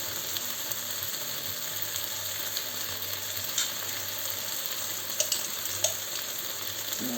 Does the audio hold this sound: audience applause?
no